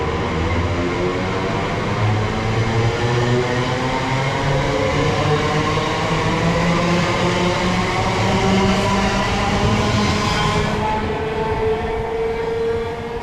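A Great Western Railway service from Reading to London Paddington departs Slough Station, a loud, steady rumble and droning hum of the moving train that holds close and unbroken throughout.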